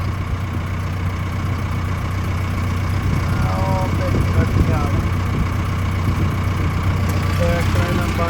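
A steady engine idles nearby, a constant low drone with a faint rhythmic chug throughout.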